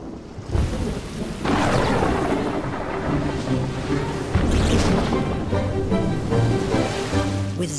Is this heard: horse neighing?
no